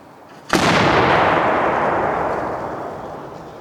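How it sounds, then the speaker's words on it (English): A historical muzzle-loading cannon fires a single loud, close blast that booms and then rolls away in a long, slowly fading rumble, with no talking. "Now would be the time to cover your ears. Give fire."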